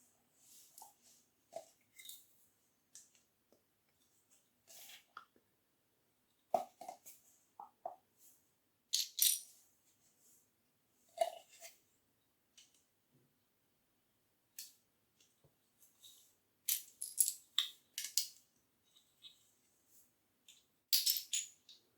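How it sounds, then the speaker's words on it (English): Lego pieces from the Star Wars Grogu set 75318 click and rattle softly during building, in sparse, irregular close-up snaps and small plastic scrapes separated by quiet gaps. "any silence apart from the clicking of the pieces"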